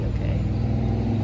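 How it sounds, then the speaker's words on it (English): A truck passes along a road beside a backyard orchard and berry bed, a steady, loud engine rumble that holds evenly throughout without talk. "I got a truck to pass."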